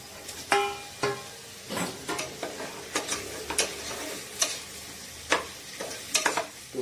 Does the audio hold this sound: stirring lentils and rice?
yes